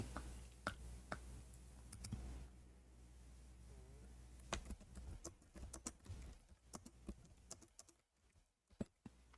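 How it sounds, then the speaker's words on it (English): Scattered clicks of typing on a computer keyboard come in irregular bursts, fairly quiet and close, with low room hum underneath. "we are typing, I thought I'm typing in English."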